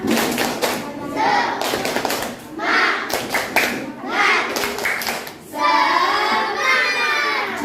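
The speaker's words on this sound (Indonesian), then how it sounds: "Tepuk semangat" Children in an Indonesian classroom do a rhythmic clapping chant, bursts of loud, patterned hand claps mixed with their chanting voices, in several phrases with short pauses between.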